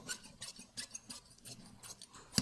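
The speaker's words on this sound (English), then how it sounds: "Cut it up 1/2 inch shorter on the hem." Scissors snip through garment lining fabric in quick separate cuts, about ten crisp close strokes in an uneven rhythm, quiet and without speech.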